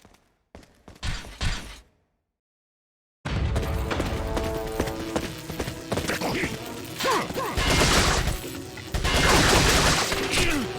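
Machine gun fire in Resident Evil 4: rapid bursts of gunfire against a room of enemies, loud and dense, mixed with impacts and enemy shouts after a short silent gap.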